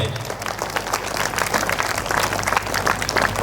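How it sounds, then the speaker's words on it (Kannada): An audience at a Kannada religious discourse claps together in a dense, continuous wave of applause, steady and fairly loud throughout. "ಚಪ್ಪಾಳೆ ಹೊಡೀರಿ, ನಿಮ್ದ ಹೇಳಕತ್ತೀನಿ"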